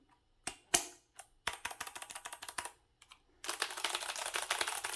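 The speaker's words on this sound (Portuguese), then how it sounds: "Achei muito bom apertar esse teclado." Keys clack on a Sharkoon PureWriter RGB low-profile keyboard with Kailh Blue clicky switches, first as a few single crisp presses, then a quick run of clicks, and finally a dense rapid typing burst, close and clear.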